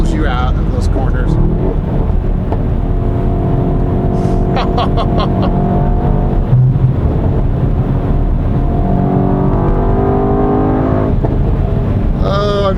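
A 2018 Mercedes-AMG E63 S Edition 1 4MATIC+ sedan engine pulls hard on a road, its rising, steady drone climbing in pitch through several long accelerations beneath ongoing talk inside the car.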